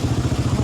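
Motorcycle carrying three riders including an infant, its engine a steady low rumbling idle with a pulsing beat, close and unbroken for a short moment.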